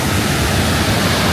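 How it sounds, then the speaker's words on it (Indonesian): Mosi-oa-Tunya, Victoria Falls in Zambia, roars with a dense, steady wash of falling water, close and loud with no break and no voices. "ini adalah hujan alami yang berasal dari gemuruhnya air terjun"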